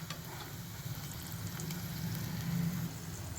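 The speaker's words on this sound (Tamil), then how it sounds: "இந்த மாதிரி குட்டி குட்டி உருண்டைகளாக போட்டு ரெண்டு பக்கமும் பொரிச்செடுக்கணும்." Small balls of crispy corn pakoda deep-fry in hot oil, giving a dense, continuous sizzle with crackling pops close up.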